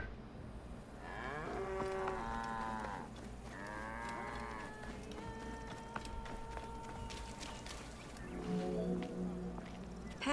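Cattle in Assassin's Creed Origins low in long, drawn-out moos, several calls in succession over a steady ambient game background, one moo near and loud and others softer, with no talking.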